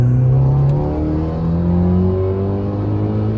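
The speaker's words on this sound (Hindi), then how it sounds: "गाड़ी बहुत सही भाग रही है एंड बहुत पावर है।" Stage 3 custom-built Fiat car accelerating hard, a loud engine drone with rising harmonic tones as it pulls through the revs, steady and close with no talking.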